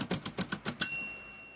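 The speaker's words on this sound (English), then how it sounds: "there's a little bell you'll hear" A mechanical typewriter clacks through six quick, evenly spaced key strikes, then its line-end bell rings once with a bright, clear ding that hangs and fades in a quiet room.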